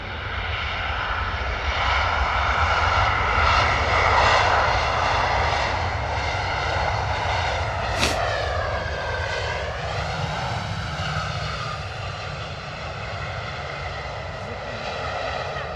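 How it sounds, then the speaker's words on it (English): Ryanair airliner landing at London Stansted Airport, a loud sustained engine roar that holds steady and then shifts in pitch as the jet rolls out, heard from the airport with no talk. "beautiful landing there from Ryanair"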